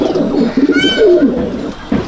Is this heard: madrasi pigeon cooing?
yes